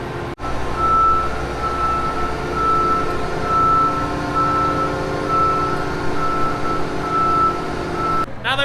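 Farm machinery reverses inside a shed to park a corn head, a repeating electronic backup beep sounding steadily over a rumbling diesel engine, with a brief clatter at the start and end.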